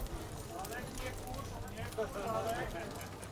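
Hooves of armoured hussar horses, each carrying an armoured rider, clip-clop in a steady, somewhat distant rhythm at an outdoor historical display, with crowd noise and talk in the background.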